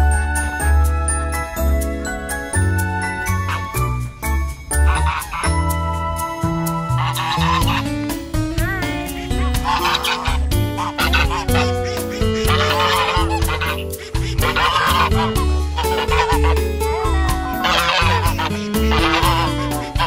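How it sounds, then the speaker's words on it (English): Angry ducks at a cafe in Pattaya quack and honk nonstop, a loud, crowded chorus of harsh nasal calls overlapping one another close by, with faint jingling mixed in. "Have you ever seen the angry duck before?"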